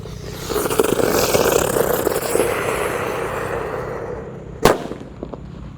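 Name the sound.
firecracker set off inside the ground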